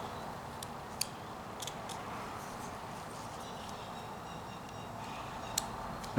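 A knife cuts a small mouth into a 35 mm film canister figure being whittled, giving a few faint, sharp clicks and snips spaced apart over a quiet background.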